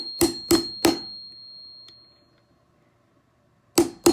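Hammer strikes on a punch while working a Canik TP9 Elite SC trigger part: three sharp metallic taps in quick succession, a ringing lull, then two more close, crisp taps.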